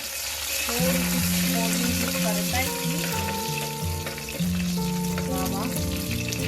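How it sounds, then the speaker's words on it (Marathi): Curry leaves and dried red chillies crackle and sizzle in hot oil for tempering, a bright spitting hiss with a steady tonal background of music underneath. "आता आपण घालणार आहोत ह्याच्यामध्ये कढीपत्ता आणि ह्या लाल मिरच्या"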